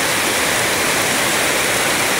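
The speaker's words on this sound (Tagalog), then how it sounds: "Grabe yung buhos ng ulan dito." Dense, loud downpour roars continuously and evenly in Tondo, Manila, a thick hiss of heavy rain close around with no breaks or voices.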